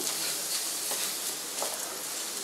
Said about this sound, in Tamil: தேங்காய் போட்டு ஒரு 5 மினிட்ஸ் லைட்டாக வதக்குங்க